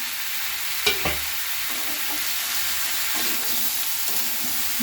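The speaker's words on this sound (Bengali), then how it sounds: "আদা দেওয়ার পরে কিন্তু বারবার নাড়তে হবে, নাহলে তলায় লেগে যাবে।" Spice paste with ground ginger fries in a pan for a cauliflower and potato curry. It sizzles steadily up close, broken by a few sharp scrapes and clatters of stirring, with no voices.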